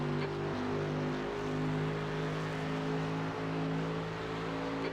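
A GT3 race car engine drones steadily in a racing video game, a sustained harmonic hum that holds near-constant pitch throughout without distinct revving or passes.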